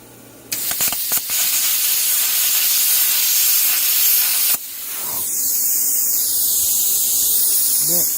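Plasma cutter slicing through metal: a loud, steady hiss that starts abruptly and holds for several seconds, then a shift in tone as the arc changes, ending in a lingering rushing sound as the torch cools.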